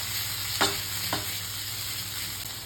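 Pork marinated with sesame oil and salt sizzles steadily as it is stir-fried in a pan over high heat, with two sharp scraping stirs of the spatula early on and a constant frying hiss throughout.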